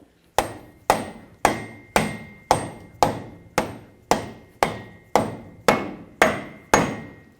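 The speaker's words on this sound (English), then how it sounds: "Now I'm going to use a rubber mallet." Rubber mallet striking a front wheel hub assembly on a 1999-2007 Ford Super Duty F-250, twelve loud, evenly spaced blows at a steady rhythm, each a sharp thud with a short ringing decay, no talk.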